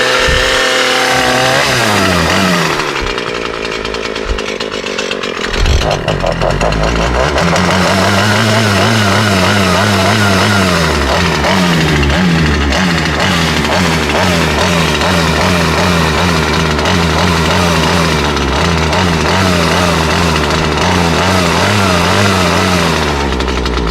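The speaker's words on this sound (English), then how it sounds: "gotta get the chainsaw warmed up." A chainsaw engine runs continuously and loudly up close, idling with a steady pulsing throb as it warms up.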